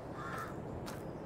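A different kind of bird, crow-like, calls from a shed on a video game map, two short harsh caws over steady ambient noise.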